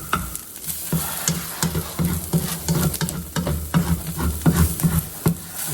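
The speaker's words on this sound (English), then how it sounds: "you kind of want to start scraping up any of the brown bits that's on the bottom" Peppers and onions being stirred and scraped in a hot pan to loosen browned bits from the bottom, with a steady sizzle under repeated utensil scrapes against the metal, close and fairly loud.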